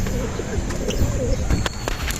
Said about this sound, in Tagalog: Yung mga ibon natin mga kalapatids,